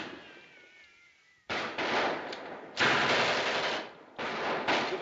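A gun fires rapid bursts in a 1938 film scene, with sharp crackling volleys in three dense, loud stretches after a quieter opening.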